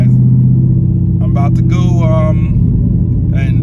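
Ram truck fitted with a triple disc clutch, a loud steady low engine rumble running throughout with someone talking over it.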